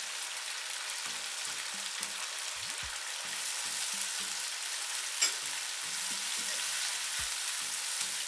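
Ginger garlic paste fries in a wok for aloo matar pulao, giving a soft, even sizzle broken by occasional spoon scrapes and taps as it is stirred, fairly quiet with no talking.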